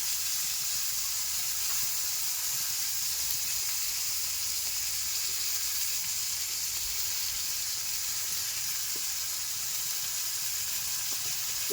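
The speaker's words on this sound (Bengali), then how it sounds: "দিয়ে দিলাম ক্যাপসিকাম দিচ্ছি ক্যাপসিকাম" Constant loud hiss of a sizzling pan as capsicum goes in with egg and carrot for a village-style vegetable dal, a steady frying noise with no breaks or voices.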